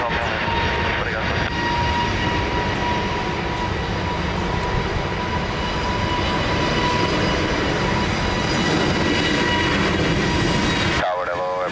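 An airliner taking off from runway 20 at Lisbon Airport, a loud continuous jet engine roar that holds steady for several seconds, heard alongside radio chatter before cutting off abruptly.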